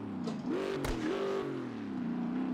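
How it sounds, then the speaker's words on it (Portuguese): A Chevrolet Camaro engine in the racing game Automobilista 2, heard from outside the car, rumbles and revs, its pitch rising and settling in waves, close and steady with no talking. "som bem característico de Camaro"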